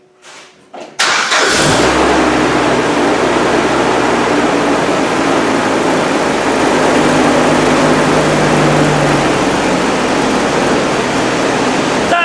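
GM Vortec engine in a project Land Rover 110 cranks briefly, catches and then runs on with a loud, steady rough idle and slight rise in revs, close to the listener.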